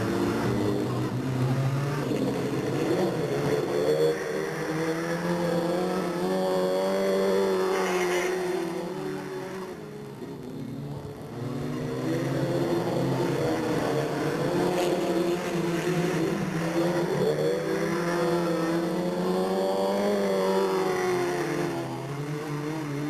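Race cars in a heat race at Delta Speedway in 1997, a continuous loud engine roar swelling and fading as the pack passes, with a brief dip midway before the drone returns at full strength.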